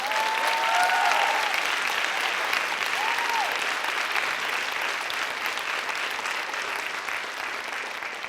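A conference audience claps steadily in sustained applause, dense and even, with a few faint whistles or cheers rising above it early on.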